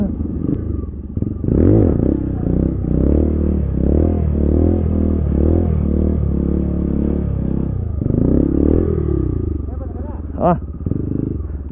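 Off-road motorcycles, including a TVS Apache, ride up a rough trail: a loud, sustained engine drone with rises in revs and some clatter, while people talk over it.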